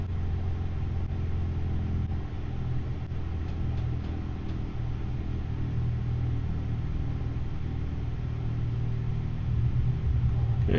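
Steady low engine drone from a Diamond DA40 light aircraft throttled back to idle power on a night landing approach, a continuous even rumble heard alone throughout.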